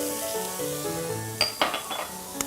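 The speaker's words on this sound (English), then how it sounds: "the next thing that I'm going to add is the mushrooms, and I've got the celery and the scallions. Get that in my pan" Chopped mushrooms, celery and scallions hit a hot stir-fry pan for chicken stir fry, bringing a few sharp clinks and clatters of utensil against the pan over a low sizzle and faint background hum.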